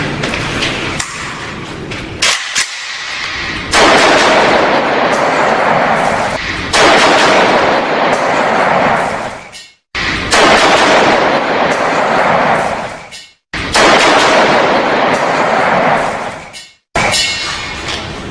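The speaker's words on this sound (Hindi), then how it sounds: "ये मेरा AK-47 राइफल है। आज मैं अपने बॉस पर गोली चलाऊंगा।" An AK-47 rifle fires at bulletproof glass in loud, sustained bursts of harsh blasts lasting several seconds each, broken by abrupt near-silent gaps between volleys, with no talking.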